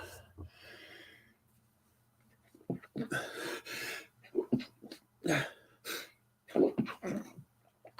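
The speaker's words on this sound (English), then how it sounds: "I know I sneezed 3 times in a row" A man sneezes several times in a row, loud explosive bursts close to the microphone with breathy gasps between them, interspersed with a whinny-like sound early on.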